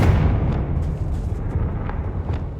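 The Confringo blasting spell goes off in the Hogwarts Legacy video game as a loud, sustained rumbling blast. Deep roaring noise fills the whole moment, with faint crackles flickering over it.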